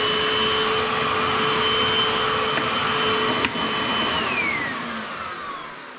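Eureka Airspeed Pet Rewind upright vacuum cleaner running on carpet, a loud steady motor whine with tonal hum that shifts pitch partway through and then eases slightly, close and alone.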